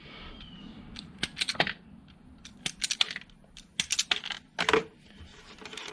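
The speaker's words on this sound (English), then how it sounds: "I want to do some cutting just to kind of show you how the cutters work." HAISSTRONICA quick-change crimper's cutting blades snipping through copper wire, several sharp metallic clicks and snaps spread irregularly over a few seconds, close and crisp against a quiet background.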